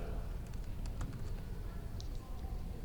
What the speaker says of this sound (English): can anyone take a guess as to what will happen if I start typing here?